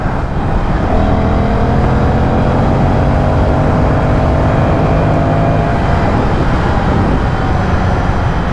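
A loud, steady Aprilia Tuono 1100 V4 motorcycle engine drone with rising tones as it accelerates, continuous throughout and close by, with wind-like rush underneath.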